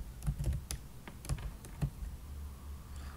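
Typing a short word on a computer keyboard while editing an image, a brief burst of soft key taps in an uneven rhythm, close and alone, trailing off into quiet.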